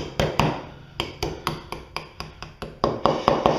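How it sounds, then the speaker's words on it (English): Hammer tapping bearings into the alternator of a Grasshopper 721D mower, a dozen close metallic knocks at a steady, unhurried rhythm, moderately loud with faint ringing between strikes. "Take your hammer and just ease them down in there."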